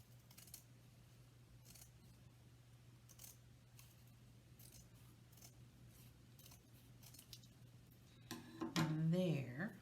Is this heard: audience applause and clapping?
no